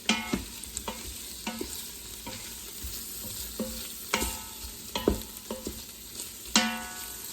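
Baby carrots sauté in butter with herbs and garlic, a steady close sizzle broken by repeated sharp scrapes and taps of a utensil stirring the pan.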